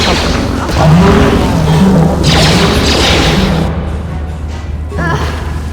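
Grenade explosion in the video game Star Wars: Knights of the Old Republic: a loud, rumbling blast that lingers for several seconds before fading, with voices talking over it.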